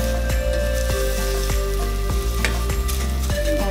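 Ingredients for sheer khurma fry in a pan with a loud, constant sizzle, and a utensil scrapes and taps against the pan at roughly regular intervals as the mixture is stirred.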